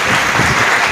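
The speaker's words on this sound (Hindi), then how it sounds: "तालियां बजती रहे" A crowd at an award ceremony applauds steadily with dense, continuous clapping that holds at an even level throughout.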